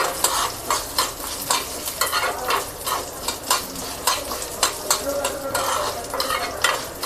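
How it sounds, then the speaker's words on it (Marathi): Garlic cloves and chana dal sautéing in a pan for a curry leaf chutney, with a constant sizzle broken by regular scraping strokes of a spatula stirring the mix, close and fairly loud. "जे आपले हे लसूण पाकळे आहेत हे देखील आपण याच्यामध्येच काय करून घेऊयात, थोड्याशा परतून घेऊयात छान"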